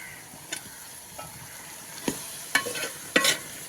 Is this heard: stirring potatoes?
yes